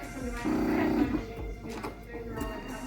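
A Bernina 770 sewing machine runs a decorative stitch in a brief steady whir of about half a second, close by, followed by a person talking.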